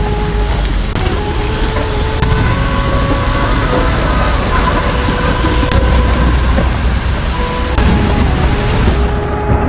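Heavy rain pours down during a motorbike food delivery, a loud, dense, continuous hiss with a steady low rumble of traffic or engine beneath, no voices.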